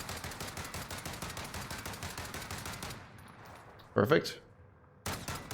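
EBR-14 rifle fire in Warzone, shot from the hip, comes as a rapid volley of loud shots for about three seconds, then a brief spoken word, a sharp burst and another shot.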